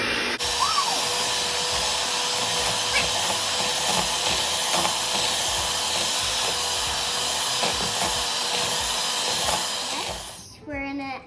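A stand or hand mixer creams cookie ingredients in a home kitchen, a loud steady whirring drone that runs unbroken for about ten seconds before cutting off, with faint voices underneath.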